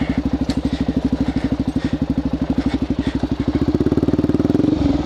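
Suzuki DRZ400SM supermoto single-cylinder engine idling and revving in tight woods, a steady close, loud rapid chugging pulse that swells toward the end as the throttle opens.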